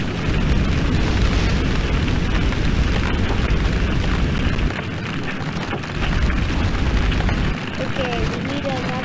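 Bomb explosion aboard a ship in the physics game Floating Sandbox, a loud sustained rumbling blast with crackling debris that drops slightly in level partway through, with a voice speaking near the end.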